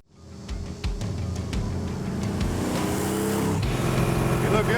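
A high-powered Mercury car's engine cranks and catches, then settles into a loud, rumbling idle that grows slightly stronger, with a few clicks and brief muffled voices in the background.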